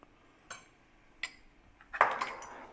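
Spoon stirring cream with a teaspoon of flour in a frying pan: a few quiet, scattered clinks and scrapes against the pan, ending in a louder scraping swirl.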